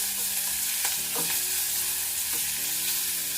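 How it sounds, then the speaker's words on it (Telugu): Ajwain (vamaku) leaves frying in a pan, making a loud continuous sizzle with a few stirring scrapes mixed in. "ఇది కొంచెం 1 నిమిషం పాటు మనం వేయించుకున్నాము."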